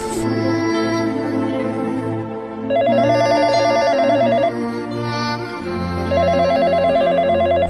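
A phone rings with a repeating melodic ringtone, its looping tone pattern playing loudly and clearly for several cycles with no talking.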